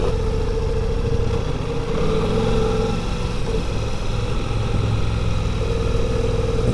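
A 2023 Ducati Multistrada V4 Rally motorcycle riding off road, its engine a steady loud drone with a low rumble that shifts slightly in pitch, close and continuous.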